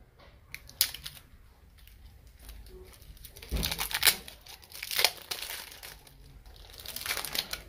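Sticky plastic shrink-wrap tears and crinkles away from a Yu-Gi-Oh Link hero deck, close and moderately loud, in irregular crackling bursts with sharper rips near the middle and end.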